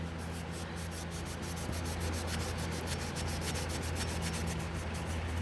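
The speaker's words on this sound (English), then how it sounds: "the rust is coming off" Steady abrasive scrubbing on a heavily rusted knife blade, a continuous close rasping friction with no pauses and no talk.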